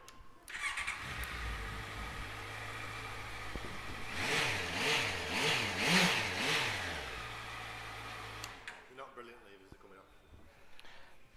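A 2016 Honda CBR650F motorcycle engine starts and settles into a steady idle, then revs in a run of rising and falling bursts near the middle before dropping back to idle, loud and close.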